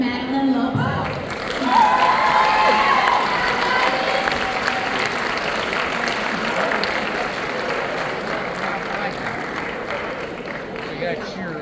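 A crowd at the Arbor Prep Class of 2025 graduation claps and cheers, a dense wash of applause that swells loudly after a name is called and then keeps going steadily, with an announcer's voice over it.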